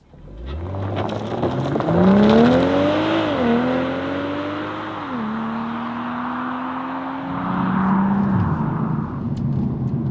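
BMW M240i xDrive engine accelerating on the road, a loud, steady drone rising in pitch through the gears with brief dips at each shift, close and continuous with no talking.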